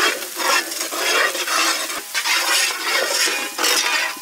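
Finely chopped onion sizzles and fries in a pan while a spoon stirs it, scraping and clinking against the metal, loud and continuous, in village-style outdoor cooking for a butter fish dish.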